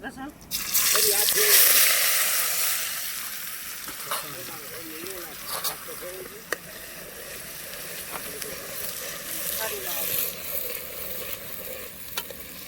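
Onions hit hot oil, tempered with curry leaves, with a loud hissing sizzle that settles into steady frying and occasional stirring, while a person talks over it.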